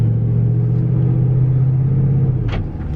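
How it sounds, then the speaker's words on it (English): Exhaust note of a 2005 high-mileage manual 4x4 car, a steady loud low rumble at idle that dips slightly near the end, with no talk. "I really will miss the exhaust notes"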